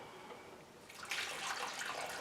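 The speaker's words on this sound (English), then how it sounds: "And now some water." Water pours into a plaster mix during an 18th-century plaster repair, a soft splashing pour beginning about halfway through and continuing to the end, fairly quiet and close.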